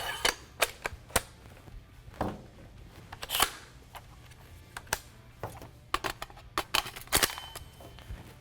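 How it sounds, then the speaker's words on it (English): Parts clicking and snapping into a Steyr AUG rifle during a 9mm conversion install as the barrel goes in, a run of sharp close metallic clicks and clacks spread irregularly over several seconds with quiet gaps between. "lastly, you can put in your barrel"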